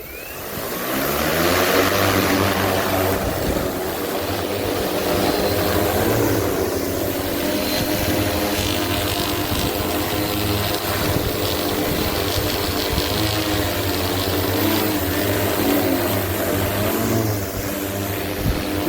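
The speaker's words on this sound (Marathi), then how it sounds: "ड्रोन फवारणी" An agricultural spraying drone over a pigeon pea crop, a continuous loud motorized whir with a steady propeller-like drone, holding constant at close range without pause.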